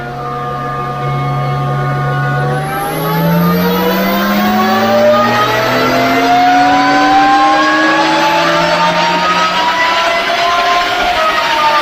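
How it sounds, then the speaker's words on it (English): A flex fuel Nissan GT-R engine pulls hard on a dyno power run, its loud, steady tone climbing smoothly in pitch as the revs rise, with a turbo-like whine overhead and no talking. "so we can get some recordings of what the engine does when it's run under those conditions"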